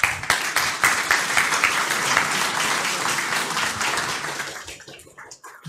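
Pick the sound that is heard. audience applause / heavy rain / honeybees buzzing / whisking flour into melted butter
audience applause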